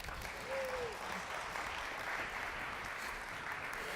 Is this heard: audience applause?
yes